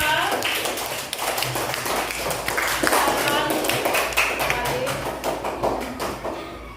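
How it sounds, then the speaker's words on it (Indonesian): Classroom applause for a student group after a presentation: a burst of many quick, close hand claps, dense at first and then thinning toward the end, with a voice talking over it. "kita berikan aplaus kepada kelompok 2"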